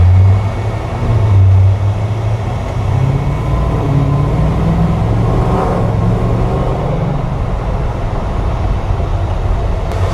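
A 1970 Chevrolet C20 pickup with an LT4 V8 swap cruises along, its steady low engine rumble and road drone holding throughout with a brief swell near the start and no talking.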